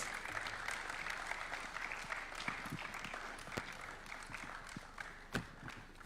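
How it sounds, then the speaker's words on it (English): A seated audience applauds at a formal document signing ceremony at Kenya's State House, a sustained, fairly faint patter of many hands with a few sharper individual claps standing out. "as we give them a round of applause"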